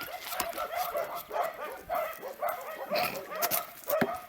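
Several dogs bark and yip repeatedly at a distance, in irregular bursts, with faint whimpering between them.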